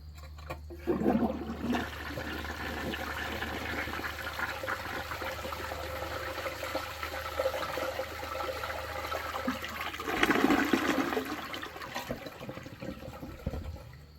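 A 1957 Rheem Richmond Empress one-piece toilet flushes an opened plastic bag: a long, steady rushing gurgle of water that swells near the start and again toward the end, with a close trickle between.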